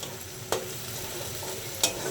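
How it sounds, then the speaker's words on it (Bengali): Onions fry in a pan while a spoon stirs them, giving a steady soft sizzle broken by two brief scraping stirs, close and fairly quiet with no talk. "পেঁয়াজটা যখন ভালোভাবে ভাজা হয়ে যাবে"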